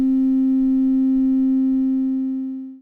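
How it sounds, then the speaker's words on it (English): A steady 262 Hz sine wave tone sounds alone, pure and loud, holding evenly before fading out at the end. "here's the 262 Hz sine wave by itself"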